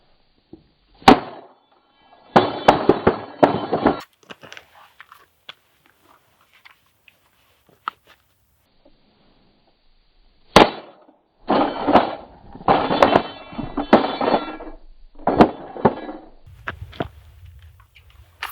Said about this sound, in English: With some banging of the cleaning rod.